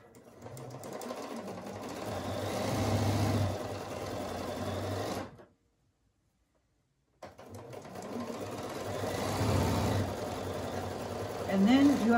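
A sewing machine stitches a quarter-inch seam on quilt fabric with a steady, fast mechanical whir, close and continuous, stopping for a couple of seconds of silence before starting again.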